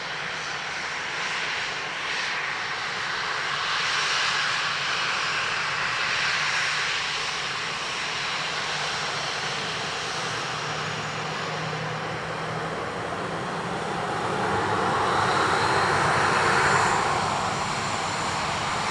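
A plane at Dublin Airport landing on runway 2 left, a steady broad engine roar that holds throughout and swells near the end as the aircraft passes closer, with no talk.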